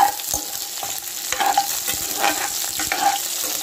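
Chopped onions sizzling and frying in a pan for broccoli gravy, with occasional stirring scrapes and clicks over a steady crackle.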